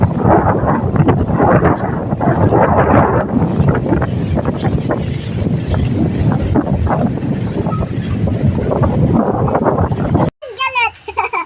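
Heavy wind roaring across the microphone in loud gusts for several seconds, then cutting off abruptly to a brief quieter moment.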